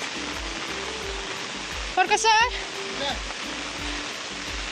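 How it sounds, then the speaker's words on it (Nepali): Steady broadband rush of flowing water in a village setting runs throughout, with a voice briefly talking over it midway. "ऊ पानी चाहिँ कस्तो आउँदैछ"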